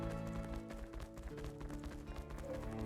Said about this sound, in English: Oh, there's a horse right in front of me.